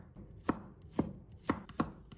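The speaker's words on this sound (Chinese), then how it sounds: "给它切成片" A knife slices garlic cloves on a cutting board, making four crisp, evenly spaced chops that land close and clear over a quiet background.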